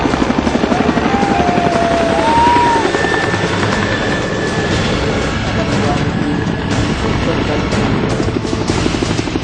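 A Navy or Coast Guard rescue helicopter's rotor thumps steadily and loudly throughout over a burning 22-storey building in Mumbai, with a rapid chopping pulse and engine whine, a few faint voices and whistles underneath.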